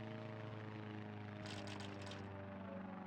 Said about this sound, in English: this plane does not sound very healthy